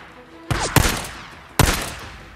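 Gunfire in the Days Gone video game: three sharp, loud shots, two close together and then one after a short pause, each cracking and then ringing off briefly.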